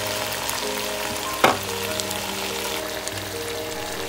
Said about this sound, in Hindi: बेल पेपर मैंने चिकन के अंदर मिक्स कर दी है और अच्छी तरह भून लिया है